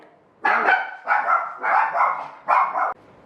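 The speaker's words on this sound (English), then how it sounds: "The dogs next door are going off about something." Several neighbours' dogs bark next door in a burst of repeated, overlapping barks, fairly loud and close, with short pauses between volleys.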